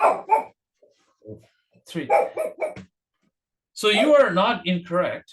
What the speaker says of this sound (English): that's my dog on the background.